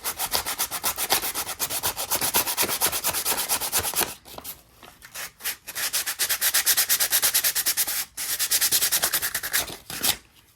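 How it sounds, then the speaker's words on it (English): Sandpaper scuffing plastic parts before painting, a steady close rasping rub in continuous strokes with a few brief pauses, loud and alone without speech. "Scuff up the plastic so that I don't get a whole bunch of chipping with the paint."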